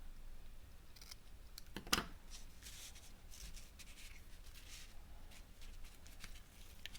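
Paper snips cut through a length of craft ribbon in one quick, close snip, a single crisp sound in an otherwise quiet tabletop setting with faint rustling around it.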